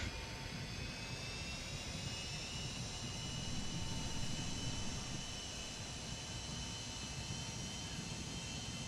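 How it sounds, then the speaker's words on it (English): An auxiliary power unit on an MD-83 airliner in a flight simulator game runs as a steady, loud, continuous whine with a droning hum, holding level throughout with no talking. "Our APU is on."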